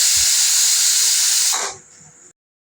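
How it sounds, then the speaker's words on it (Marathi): A strong, steady hiss of steam rushes out of a pressure cooker after two whistles, then tapers off to a thinner hiss before cutting off abruptly. "दोन शिट्टी करून झाल्यावरती लगेच वाफ काढून घेतली मी"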